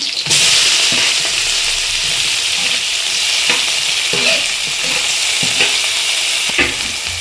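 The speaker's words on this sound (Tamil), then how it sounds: "ஆனியன் சேர்த்து நல்லா வதக்கிக்கலாம் ஃப்ரெண்ட்ஸ்." Onions sautéing in a hot pan with fennel seeds, cloves and green chillies as the base for a chicken gravy: steady close sizzling and frying throughout, with repeated scraping stirs of a spoon against the pan.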